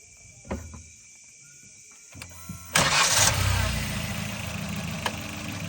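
A few clicks and a cranking attempt, then an automatic Suzuki Swift's engine catches and settles into a steady, close idle.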